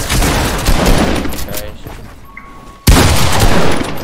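Grenade explosions in a Fortnite Season 8 squad match: loud, dense bursts of blasts and crackling debris, a lull, then a sudden sharp boom that sets off another heavy burst, with players talking over it.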